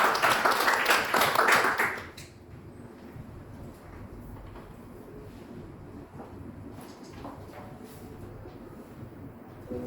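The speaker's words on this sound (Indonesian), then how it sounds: "Berikan tepuk tangan dulu." Audience applause at a corporate event: a dense burst of many hands clapping for about two seconds, then it drops off abruptly to a quiet room hum with scattered faint knocks.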